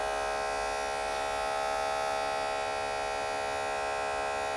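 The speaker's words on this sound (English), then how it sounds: "listen to the motor a bit. It should start its oscillation to an acceleration cycle." An electric motor powered from a power supply runs with a loud, steady, dense buzzing whine that holds at a constant level throughout, with no talk.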